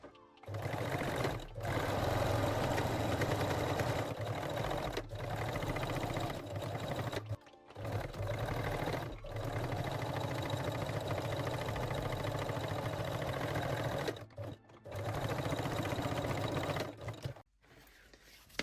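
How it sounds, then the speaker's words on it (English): A sewing machine runs a small zigzag stitch along elastic, whirring steadily and close for most of the stretch, with a few brief stops as it goes forward, backward and forward again. "And now we can sew the elastic with a small zigzag stitch."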